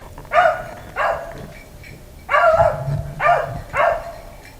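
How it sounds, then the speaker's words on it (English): Hunting dogs out on a rabbit hunt bark repeatedly in five distinct bursts, some doubled. The barks sound moderately distant across open ground, with no talk. "It's likely them dogs are coming back from that way across here."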